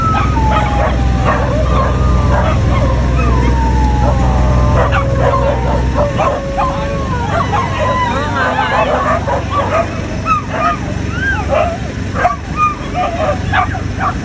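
A pack of dogs at a shelter on Pulong Malaki yip, whimper and howl excitedly in a dense, overlapping chorus of high, wavering cries and barks, close and loud, over a low engine hum and people talking.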